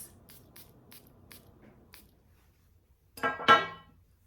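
Light scattered clicks, then two quick hissing bursts of a perfume atomizer spray, close and sharp, the second louder.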